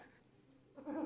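A man imitates a male goat bleating: one short, nasal, wavering bleat rising near the end, fairly close and alone after a brief quiet lead-in.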